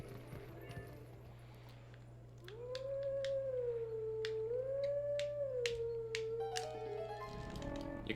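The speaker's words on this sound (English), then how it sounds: "You can make the howling look like a heart monitor." A wolf howls in Zelda: Twilight Princess, one long rising and wavering note with a clear harmonic stack, sustained for several seconds over a steady low drone and scattered clicks.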